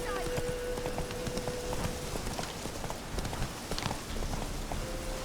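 Roach the horse galloping in The Witcher 3, a rapid drumming of hooves under continuous noisy outdoor ambience with rain-like hiss, and a voice speaks briefly.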